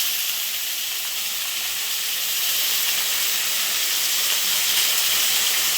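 Spices, turmeric, coriander and chilli powder, sizzle in hot oil for raw banana kofta, a loud, steady hiss that grows slightly stronger toward the end.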